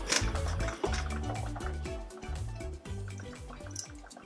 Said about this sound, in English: In a small pot, I'm adding 4 cups of water.